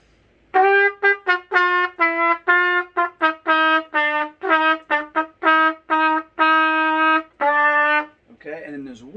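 A solo trumpet plays a passage up close, a lively string of crisp tongued notes with several longer held tones toward the end, followed by a short, softer tail.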